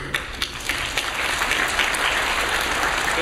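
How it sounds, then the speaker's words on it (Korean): A church congregation breaks into applause of thanks during a Sunday service: a loud, sustained wash of many people clapping, with a few sharper individual claps standing out at the start before it settles into a dense, even roar. "감사의 박수."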